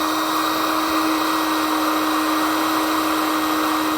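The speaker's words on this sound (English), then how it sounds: "Now we want to grab our heat gun and just shrink down our butt connectors." A heat gun blowing continuously while shrinking butt connectors on a truck cab light wiring job, a loud steady whooshing drone with a constant hum, uninterrupted and close.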